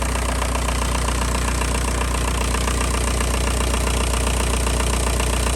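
A Volkswagen Beetle engine, its melted fuse box just repaired, idles steadily and loudly up close, a constant dense rumble with an even mechanical patter throughout and no voices.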